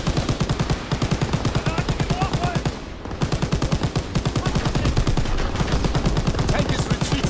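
Rapid automatic gunfire aimed at infantry near a tank in Call of Duty: WWII, loud evenly spaced shots in long steady bursts with one brief pause midway, close and dominant throughout.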